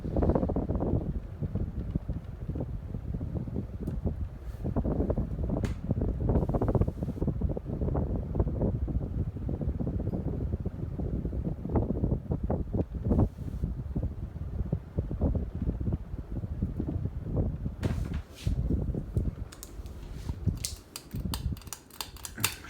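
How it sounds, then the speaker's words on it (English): A 52-inch Hunter Infiniti ceiling fan in bright brass with oak blades, heard close up, gives a steady rush of moving air with soft intermittent ticks and clicks throughout. "bring it in close so you can hear the air movement"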